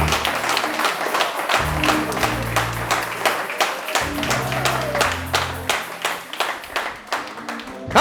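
A church congregation claps and cheers in acclaim for Jesus, dense rhythmic applause with crowd voices, loud and sustained throughout, with musical tones underneath.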